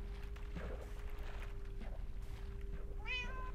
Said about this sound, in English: Come on, little kitty.